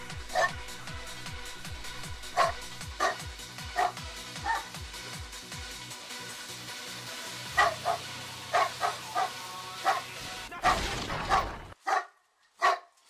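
A dog in the video game GTA V barks repeatedly at irregular intervals over a steady rhythmic thumping background, ending with a few louder, sharper barks.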